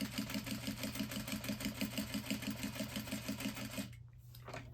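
A sewing machine stitches a bag interior seam in a steady, rapid rhythmic whir of repeated needle strokes, close and fairly quiet, stopping abruptly near the end.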